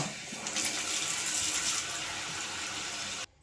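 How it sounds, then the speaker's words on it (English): Water rushes steadily into a toilet tank as a new fill valve refills it. The hiss is constant and close for about three seconds, then stops abruptly. "we'll go ahead and turn the water on, let it refill"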